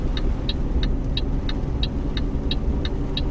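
A low-powered truck driving at about 25 miles an hour in Euro Truck Simulator 2, with a steady engine rumble beneath a regular, evenly spaced ticking of the turn signal.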